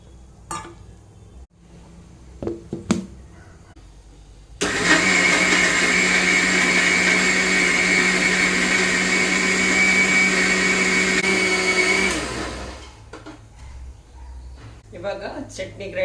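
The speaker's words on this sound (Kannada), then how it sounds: "ಇದಕ್ಕೆ ಬೇಕಾಗುವಷ್ಟು ಉಪ್ಪನ್ನು ಹಾಕ್ತೇನೆ ಸ್ವಲ್ಪ ನೀರನ್ನು ಹಾಕಿ ಇದನ್ನು ಗ್ರೈಂಡ್ ಮಾಡ್ತೇನೆ" A kitchen mixer grinder whirs a spice paste with salt and water, starting abruptly into a loud, steady high-pitched whine that runs about eight seconds and then winds down, with scattered clatter and brief sounds before and after.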